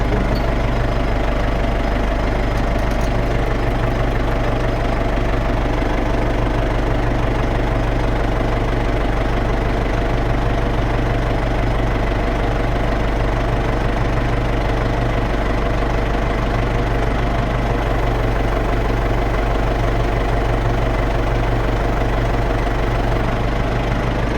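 An MTZ tractor's diesel engine idles steadily throughout on first start after two cylinder liners were replaced, exhaust not yet fitted; a constant low rumbling chug with a faint knocking rhythm, close and loud, with no voices.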